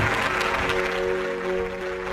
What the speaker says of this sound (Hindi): जोरदार ताली के साथ सारी कलीसिया परमेश्वर का धन्यवाद करे, जोरदार ताली के साथ।